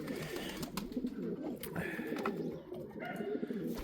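Several pigeons coo softly and repeatedly nearby, their low burbling calls overlapping against faint background noise.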